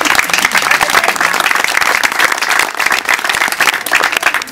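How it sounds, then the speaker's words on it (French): Sustained, dense applause from an audience at the inauguration of a shelter for homeless women, steady and loud throughout, with many hands clapping together and no talk on top. "Il y a Madame Jouden, Leïla, que je voudrais vraiment applaudir."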